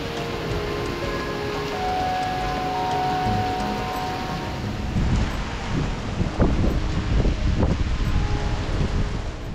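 Rain falls around a bridge during lure fishing, heard as a steady, dense hiss with wind rustle and a few louder crackling patters near the end, with no one speaking.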